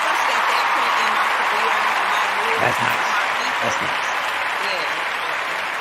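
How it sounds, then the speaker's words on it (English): A round of applause, steady dense clapping that holds at an even level for about six seconds, with a brief spoken voice over it. "Oh, let me give a round of applause for that."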